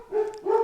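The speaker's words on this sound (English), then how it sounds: "dogs, if you can hear that." Dogs barking in the background of an indoor recording, two short muffled barks in quick succession, moderately faint.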